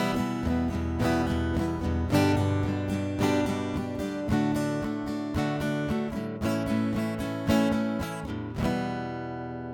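A rhythm guitar strums a chord progression with busy, steady strokes on every beat, each chord hit crisply and evenly, played alone and fairly clear with no talking.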